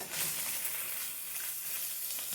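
Peppers and noodles charring in a hot pan, a steady, close, bright sizzle with crackling spatter throughout and no break.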